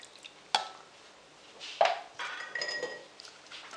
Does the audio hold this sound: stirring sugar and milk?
yes